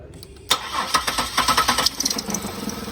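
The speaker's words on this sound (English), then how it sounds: "crank it with only one fuse in it and see how the engine responds" A 2000 Buick LeSabre engine, with only one fuse installed, cranks with rapid rhythmic chugs, then catches and settles into a rough idle.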